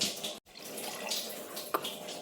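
Cooking water left from boiling chickpeas is poured into a pot of rice, a soft, close splashing trickle with a brief break and one small splash near the end.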